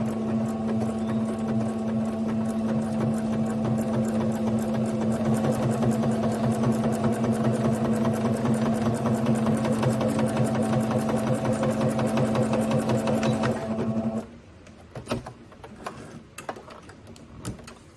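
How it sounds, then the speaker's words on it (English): A sewing machine stitches the side leg seam of small pants for a Breyer model horse doll. It gives a steady, close mechanical whir and hum for about fourteen seconds, then stops, leaving a quiet room with a few small handling noises. "I am going to stitch on the side leg seam."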